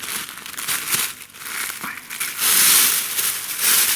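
A small plastic bag, the kind used to make a mini greenhouse for growing a phalaenopsis orchid keiki on a cut flower spike, crinkles loudly as it is handled. The crackling comes close up in uneven bursts that swell and fade, with no talking.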